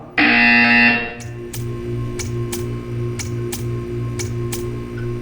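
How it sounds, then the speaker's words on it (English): A loud electronic buzzer tone in Portal 2 sounds for about a second, then gives way to a steady low hum broken by a series of regular sharp ticks. "You will hear a buzzer."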